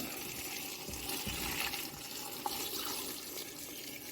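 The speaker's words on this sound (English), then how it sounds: "Pour our water into the pressure cooker." Water pours into a pressure cooker for black bean goat soup, a steady close gushing and splashing stream running alone for a few seconds.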